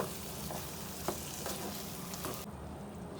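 Potatoes frying in a pan for a bell pepper and potato curry, a steady close sizzle with a few soft stirring scrapes and clinks, unbroken throughout with no talking.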